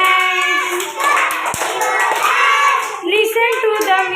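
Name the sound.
hands clapping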